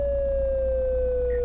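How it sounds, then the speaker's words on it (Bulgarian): A steady, loud, sustained siren tone from Euro Truck Simulator 2 plays continuously without a break over a low engine rumble. "Угаси тия сирени, бе"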